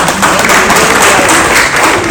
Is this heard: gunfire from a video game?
no